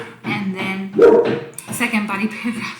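A household dog lets out a brief bark in the room, cutting in under a person who keeps talking throughout.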